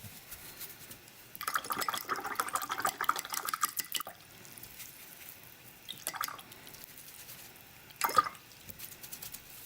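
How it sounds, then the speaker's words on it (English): A paint brush being washed in water makes a few separate bursts of splashing and swishing close by, with quiet gaps between them and no talk. "I need to wash my brush."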